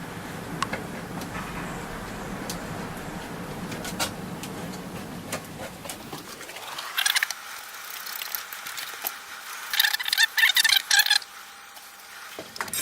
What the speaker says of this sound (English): Okay, that's all of the nuts undone.